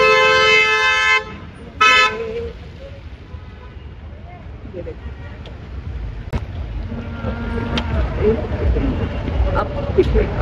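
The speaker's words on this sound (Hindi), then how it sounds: "ट्रैफिक और बारिश की वजह से इतना ट्रैफिक हो रहा है जिसकी कोई हद नहीं है।" Car horns toot loudly in dense, rain-soaked road traffic, with a steady wash of engine rumble and wet traffic noise and voices murmuring underneath.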